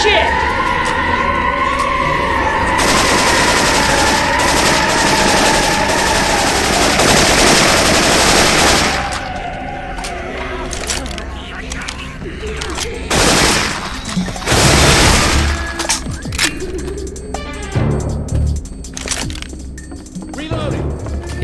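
Syphon Filter weapon sounds in Left 4 Dead 2: loud, dense sustained automatic gunfire for the first several seconds, then scattered bursts and single cracking shots under game noise and speech.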